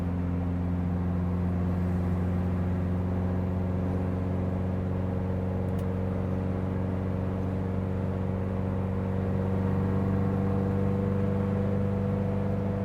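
A 1960 Porsche 356 Abarth tribute cruising on the road at about 60 mph, giving a steady, loud engine drone with strong low harmonics and constant road rumble, no speech.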